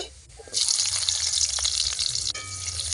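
Cumin seeds dropped into hot white oil for a shellfish curry, bursting into a loud, steady sizzle after a brief quiet start and continuing close up.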